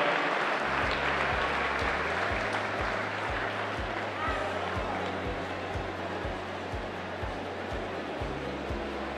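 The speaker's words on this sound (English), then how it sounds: "Ladies and gentlemen, put a big round of applause together." Audience applause ringing through an indoor pool arena at a national short course swimming finals in New Zealand, a steady wash of clapping that holds for the whole stretch over a low rhythmic thumping hum.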